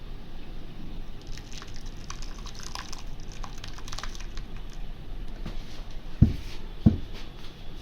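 Blended lychee juice with water and sugar is strained, producing soft wet dripping and squishing with a couple of sharper taps near the end, close and fairly quiet.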